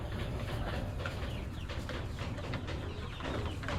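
Darag native chickens, young hens about 18 weeks old kept in a pen, cluck and chatter in a busy mix over a steady outdoor background with no talk.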